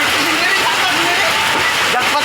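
Heavy rain pours down in a loud, steady, unbroken hiss of falling water that fills the whole scene without letup.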